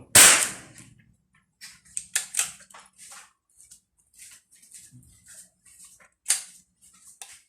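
Rifle shots from a CZ 457 with a 24-inch barrel at a shooting range, a sharp loud report at the start followed by several quieter sharp cracks and clicks spread across the following seconds, no talk.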